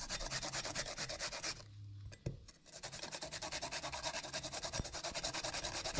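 Cucumber grated by hand for tzatziki sauce makes a fast, even rasping rhythm of close strokes, pausing briefly partway before resuming at the same steady pace, with no talking.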